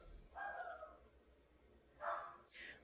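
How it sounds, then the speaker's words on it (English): A dog barks in two or three short, muffled bursts somewhere nearby, with quiet gaps between them. "That's my dog barking."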